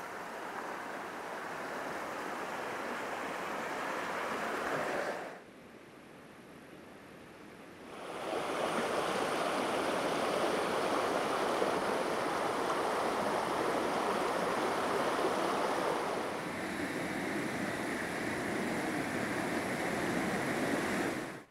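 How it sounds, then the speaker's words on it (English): A mountain creek running high with spring runoff makes a steady, full rushing wash that dips briefly and then returns, close and continuous with no talking. "And right here's the creek. Flowing pretty good because there's still runoff."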